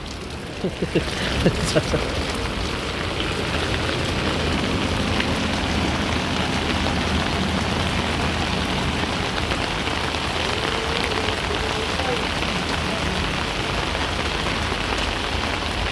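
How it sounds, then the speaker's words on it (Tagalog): Steady, heavy rain from a typhoon pours down and drums on a surface, a constant loud hiss with a few faint voices early on. "Tigil na ulan."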